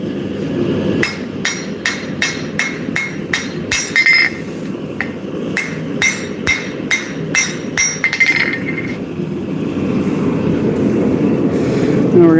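Hammer blows on a knife blade being forged, sharp metallic strikes in quick bursts of about a dozen, some light taps, ringing against a steady broadband roar like a forge blower throughout.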